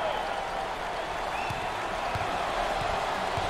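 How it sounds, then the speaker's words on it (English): A crowd in a basketball arena at an NCAA tournament game cheers with a broad, steady roar, moderately loud and sustained, with a few faint thuds underneath. "there's all kinds of people standing and cheering and going wacky"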